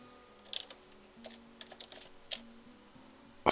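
Light, sparse keystrokes on a computer keyboard while renaming a style in design software, soft taps in small bursts with a louder click at the end, no talking.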